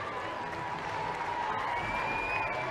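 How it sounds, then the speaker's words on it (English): Supporters applaud at a Chelsea Women versus Manchester United FA WSL match, a steady, dense wash of clapping and crowd noise that holds at an even level throughout, with faint voices mixed in. "they are milking the applause from their supporters"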